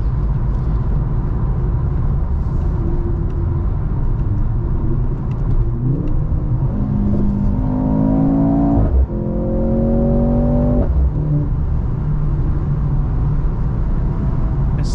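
A 2023 Mercedes-Benz C43 AMG with its 2.0-liter turbo engine drives in sport plus mode, a steady low rumble from the cabin. Partway through, the engine revs climb and fall in two rising sweeps before settling back to a cruising drone.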